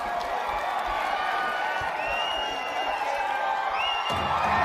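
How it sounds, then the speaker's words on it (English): Crowd cheering at a kabaddi match between Erode and Virudhunagar teams at Isha Gramotsavam, a dense sustained roar with scattered whoops and whistles, steady and continuous throughout. "Now the crowd is cheering for the Virudhunagar team, hoping for them, rooting for them to climb up the scoreboard"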